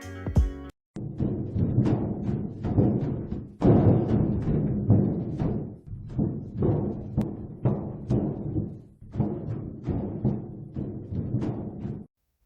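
Ventilation noise from the video game Five Nights at Freddy's 3: a steady run of repeated thumping, clattering bursts, loud and close, with no talking over it.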